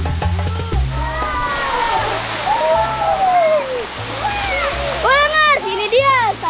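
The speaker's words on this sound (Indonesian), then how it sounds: "air terjun ini namanya Cikurutu. Tapi sayang, karena musim kemarau, aliran airnya tidak begitu deras." The Cikurutu waterfall in Jampang Tengah, running weakly in the dry season, gives a steady broad rush of falling water beneath loud, lively children's voices talking and calling out throughout.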